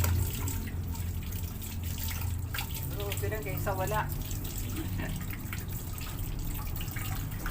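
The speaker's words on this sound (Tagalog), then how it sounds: "Hina ng tulo sa amin, no? Hina ng tulo." A weak trickle from a kitchen tap while dishes are washed, thin steady running water with a few drips and clinks, close, while someone talks over it.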